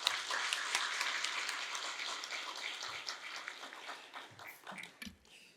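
A church congregation at a Sunday service applauds to welcome the pastor to the pulpit, a dense steady patter of many hands clapping that gradually thins and fades out at the end.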